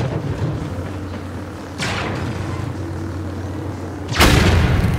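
Frag grenade explosions in a video game: two booming blasts, one near two seconds and a louder, closer one near four seconds, over a steady low hum.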